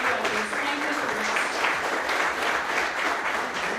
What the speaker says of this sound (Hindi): एक बार पूरी टीम के लिए जोरदार तालियां।